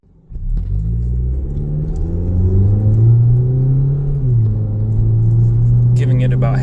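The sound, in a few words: Jeep Patriot engine accelerating at half throttle on road test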